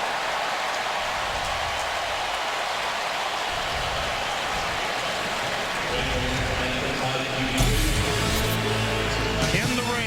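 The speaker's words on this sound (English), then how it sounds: "In the rain in Tuscaloosa" Steady rain falls on a college football stadium in Tuscaloosa during an Alabama versus LSU game, a constant loud hiss that later mixes with a rising crowd roar.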